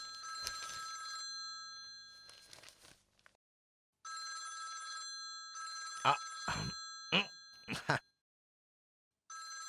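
Telephone bell ringing in repeated bursts, loud and close, broken by short gaps, with a few sharp knocks and clatters near the end and brief talk at the start.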